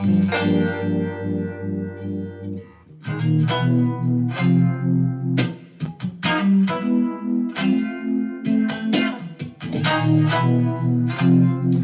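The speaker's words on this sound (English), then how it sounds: "I have two kind of Leslie sounds set up. So there's one is the old Univibe sound" Electric guitar played through Univibe and Leslie rotary effects on a Fractal unit, strummed chords with a swirling, pulsing warble and some distortion, loud and close with no voices.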